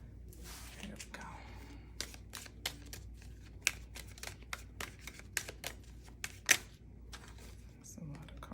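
Soft riffling and flicking of tarot cards being shuffled in irregular bursts, with scattered sharper snaps over a quiet background.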